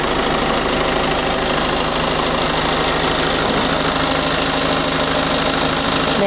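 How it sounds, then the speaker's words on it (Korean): A BMW X4 (G02) xDrive20d diesel SUV engine idles at a steady, even rumble, running on continuously with no voices over it. "엔진 소리 일정하네요"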